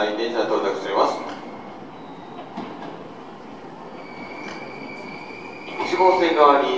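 A Hankyu 7000 series local train pulls into Nishinomiya-Kitaguchi station on the Kobe Line, its low rumble and wheel noise rising and falling under platform announcements.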